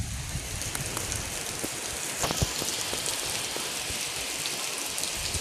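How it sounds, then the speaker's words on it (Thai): Steady rain falls, pattering on a surface with a dense, even hiss and occasional louder drops, continuing throughout with no voices. "ฟ้าฝนยังตก"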